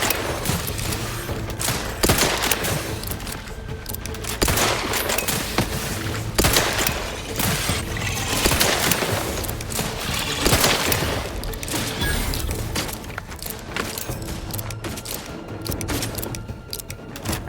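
Sustained gunfire in a video game, dense bursts and volleys of shots rolling on without pause, with thuds and booms mixed in at a steady loud level throughout.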